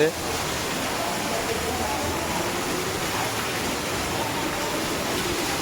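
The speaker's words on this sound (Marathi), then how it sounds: "एवढा पाऊस पडतो बघा" Heavy rain pours steadily on a walk up to Jivdani temple, an even, dense hiss with faint voices underneath.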